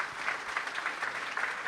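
Audience applause during a tech conference morning session, a brief burst of moderate clapping at some distance, steady and fairly quiet throughout.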